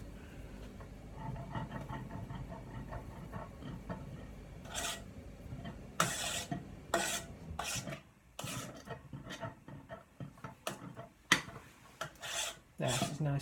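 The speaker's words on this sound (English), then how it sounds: "I'll stir this in." Lasagna ingredients stirred in a pan with a spoon, a steady scraping, rasping rub that repeats close by, with sharper scrapes in the second half and no talk.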